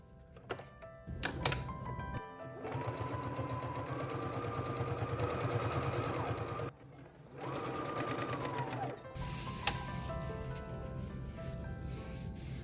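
A sewing machine stitches a tote bag strap in two steady close runs of whirring stitches, the second shorter, with handling clicks and rustling before, between and after.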